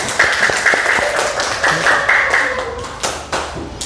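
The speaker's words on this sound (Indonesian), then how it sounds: "silakan tepuk tangan buat Mbak Zahira" A room audience claps for Mbak Zahira after her Quran recitation at an Indonesian reading session: a lively patter of many hands, fairly close and continuous throughout, with brief sharper slaps standing out.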